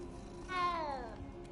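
A cat in Hogwarts Legacy gives a single clear meow with a rising then falling pitch, close and distinct over a quiet game background with no talking.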